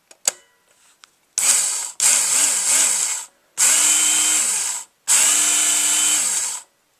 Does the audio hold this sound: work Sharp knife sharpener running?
yes